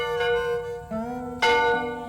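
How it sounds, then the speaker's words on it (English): A one-room schoolhouse bell rings alone with a sustained, ringing tone that shifts pitch twice as the bell swings, fairly close and steady in volume. "I ring the bell at about 8:30."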